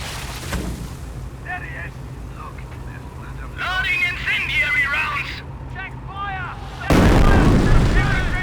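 Incendiary artillery barrage in a Company of Heroes battle, booming impacts and rumbling fire with a loud blast burst near the end, under shouted voices and battlefield noise.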